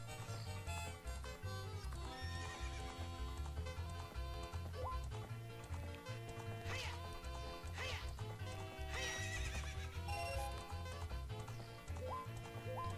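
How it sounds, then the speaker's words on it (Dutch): A horse in the video game The Legend of Zelda: Ocarina of Time whinnies, with occasional clip-clop, partly buried under loud, continuous game music. "Deze pony is ook veel sterker dan degene van Majora's Mask."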